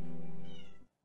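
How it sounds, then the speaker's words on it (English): A pet cat gives a single drawn-out, yowling meow at close range, harmonic and loud, then it tapers off abruptly into silence. "my cat gets the zoomies and you can hear her yelling in the background"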